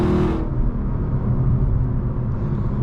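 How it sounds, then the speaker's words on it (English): Naturally aspirated V8 of a 2025 Lexus LC 500 droning loud and steady from inside the cabin, a sustained engine roar after a brief higher-pitched rise at the start. "let that engine rev out and sing and just do what naturally aspirated engines do best"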